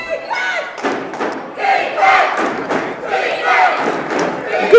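A crowd at a high school boys basketball game, Greenville at PCHS, roars and cheers loudly and steadily throughout, with thuds and shouts mixed into the din.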